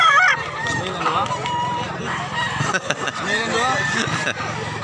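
Roosters and chickens at a poultry market in Mantalungon, Barili, Cebu, with crowing and clucking from several birds amid a busy crowd, under steady talk nearby.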